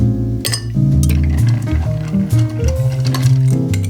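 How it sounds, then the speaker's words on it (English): Ice cubes clinking and rattling against a glass as an Old Fashioned cocktail is stirred, quick repeated light knocks close up over a steady low background. "Add plenty of ice and stir to chill and dilute."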